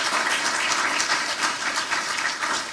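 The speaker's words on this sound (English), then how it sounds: "Please clap it up for them" An audience claps steadily throughout at a symposium event, a continuous, fairly close wash of hand claps with no talk over it.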